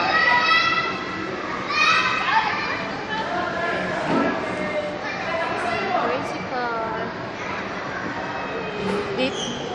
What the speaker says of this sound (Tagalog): Ganyan maglaro yung mga bata